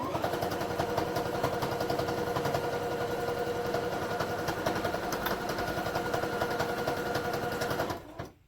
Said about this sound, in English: Once I get my sewing machine going.